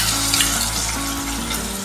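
Sauces for crispy potato Manchurian, including tomato sauce and dark soy sauce, bubble and sizzle in a pan over medium heat, a constant close frying hiss with a few soft knocks of a stirring spoon.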